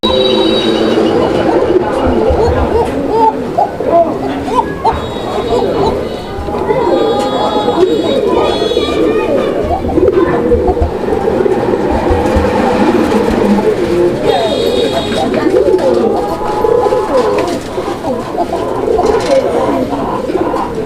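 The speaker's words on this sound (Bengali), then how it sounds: "এটা হচ্ছে কোকা কবুতর আর কোকাটা কিন্তু একদম ভরপুর ডাকের একটা কোকা" Koka pigeons coo repeatedly in low, rolling calls at a pigeon farm, with people talking nearby and a steady rumbling background.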